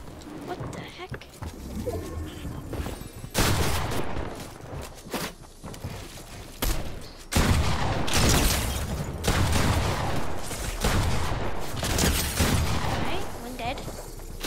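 Bursts of SMG gunfire in a 3v3v3v3 video game, loud rapid clusters of shots separated by short gaps, with a player talking throughout.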